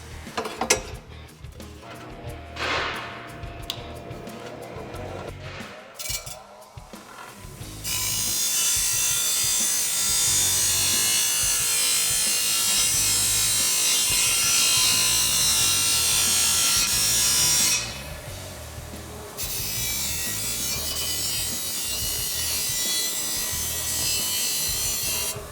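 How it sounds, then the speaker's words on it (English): Cutting a 4-inch exhaust pipe for a 2017-2022 SuperDuty 6.2L exhaust install, a steady harsh grinding cut running about ten seconds, close and loud, with handling clatter before it. "So now we got our pipe cut."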